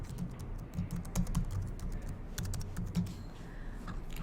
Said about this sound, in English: you can simply type in the URL.